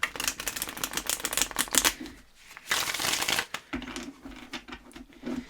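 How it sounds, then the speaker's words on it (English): A deck of tarot cards being shuffled by hand at close range, a dense run of riffling, flapping card sounds in bursts with a short pause in between, no talking. "let's give these a proper shuffle"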